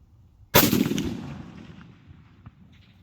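A single loud rifle shot fired at a long-range target cracks sharply, then a long echo rolls away and fades over the next two seconds, with no talking.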